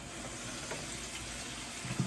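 A skincare applicator rinsed under a running tap makes a steady, close, even rush of water that holds level for about two seconds and ends with a slight surge, with no voices.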